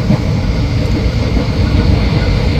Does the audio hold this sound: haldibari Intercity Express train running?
yes